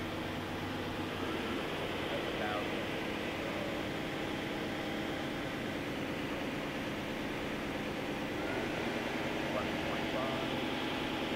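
A 2000 Okuma Crown L1420 two-axis CNC turning center with an LNS hydro bar feed runs at 900 RPM, giving a steady, continuous broadband whir and hum without breaks, with faint voices in the background.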